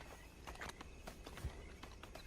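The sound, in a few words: horse hooves in Red Dead Online video game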